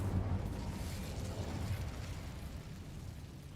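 Incendio fire spell cast in a Harry Potter video game, a soft low burst that whooshes and fades over a few seconds, fairly quiet.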